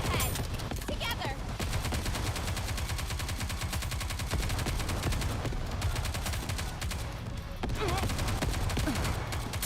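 Rapid automatic gunfire rattles in NIKKE Goddess of Victory, dense continuous bursts with brief lulls, loud and close, while voices speak over the shooting.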